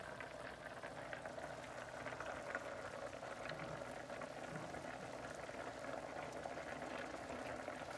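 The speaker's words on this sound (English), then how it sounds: "make sure it's a rolling boil like this" A pot of water churns at a rolling boil on the stove while chicken pot pie is being made. The bubbling and hissing is steady and continuous, close up, with no voices.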